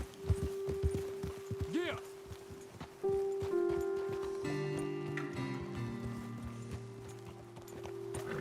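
Horses ridden in the video game Red Dead Redemption 2, with hoof clip-clop and a short whinny under game music and spoken dialogue before the riders slow and dismount.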